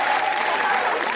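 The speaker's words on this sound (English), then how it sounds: "Noticing a little bit of anger in the claps with direct eye contact." Audience at a comedy show clapping together in a short, steady burst of applause, broad and fairly close, with no speech over it.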